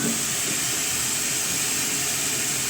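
Crushed ginger and garlic sizzle in a pan with onions and salt while cooking karimeen pollichathu, a steady, even hiss that holds for about three seconds with no voices.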